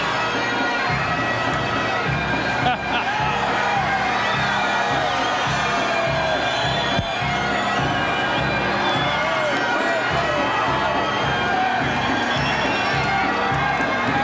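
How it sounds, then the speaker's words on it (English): A large wrestling crowd at Madison Square Garden in 1986 roars and cheers continuously, a dense, loud wall of voices with a steady rhythmic pulse of stomping or chanting underneath. "This tremendous crowd is going bananas here in the Garden"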